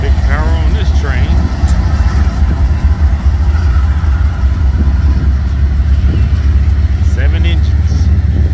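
A freight train led by seven locomotive engines passes nearby with a heavy, steady low diesel rumble and grinding, loud and continuous, with someone talking over it.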